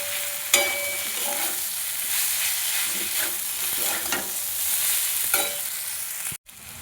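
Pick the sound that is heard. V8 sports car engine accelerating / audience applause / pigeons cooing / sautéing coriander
sautéing coriander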